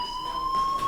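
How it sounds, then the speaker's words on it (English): A school fire alarm in the video game Life Is Strange sounds as a steady, continuous electronic tone with layered pitches, holding at an even, fairly loud level throughout. "Do you hear that fire alarm?"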